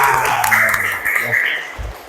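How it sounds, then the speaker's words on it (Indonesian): A classroom of students claps during an Islamic school lesson, a short burst of applause under a prominent voice that carries over most of the moment. "Oke, tepuk tangan"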